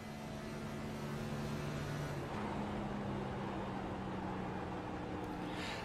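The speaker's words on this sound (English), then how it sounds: "you can hear Ott there spending a lot of time off of the throttle here tonight and trying to save that fuel." Stock car engine in the iRacing game at Atlanta, running off throttle to save fuel, a steady droning hum with low tonal lines, continuous and fairly close throughout.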